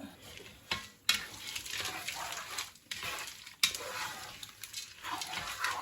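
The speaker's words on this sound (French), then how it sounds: "je mélange bien, que tous les épices soient bien mélangées, bien uniformes au niveau des haricots" White bean curry stirred in a pot with a spoon, a steady scraping swish over a low sizzle, with a few sharper clanks against the pot, close and continuous.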